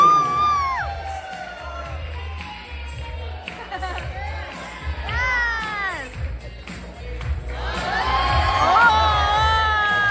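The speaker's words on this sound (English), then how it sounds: "And now please put your hands together for Sheena's brother and Daniel's sister" Wedding guests cheer, whoop and shout for the wedding party at a reception, a lively mix of raised voices and excited yells that swells louder toward the end.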